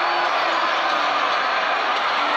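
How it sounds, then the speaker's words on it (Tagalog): A packed basketball arena crowd roars in a steady, dense wall of noise after a fastbreak slam dunk in an MPBL game, loud and sustained throughout. "You can hear the crowd"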